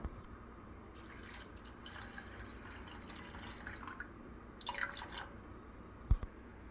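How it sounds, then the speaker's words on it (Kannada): Water is poured into a cooking pot holding moringa (drumstick) leaves, giving soft trickles and a brief louder splashing stretch, then a small knock, all fairly quiet with no talking. "So will be adding this one and some water also. ಸ್ವಲ್ಪ ನೀರು ಹಾಕ್ತೀನಿ."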